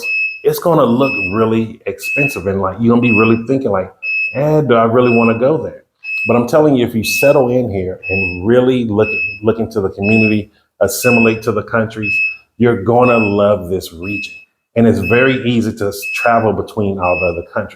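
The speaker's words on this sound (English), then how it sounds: "My apologies for that beeping." A UPS battery backup beeps during power load shedding, repeated high electronic tones chirping steadily in the background under continuous close talking.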